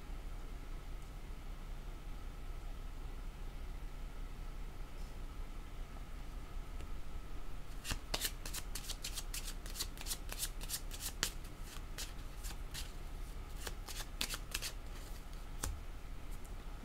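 Tarot cards being shuffled, a quiet background for several seconds before a burst of rapid crisp riffling flicks from about eight seconds onward, close and clear, with no talk.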